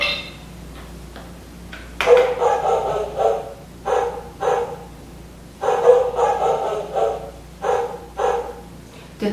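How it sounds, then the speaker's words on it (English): A dog barks in short repeated bursts, several clustered yelps recurring over the span at moderate distance, set among the noise of a board game being played, with children audible faintly in the background. "dog is barking"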